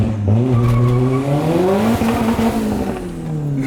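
A turbocharged Honda Civic driven hard, its engine roaring loud and close with rising and falling revs while the tires squeal continuously throughout.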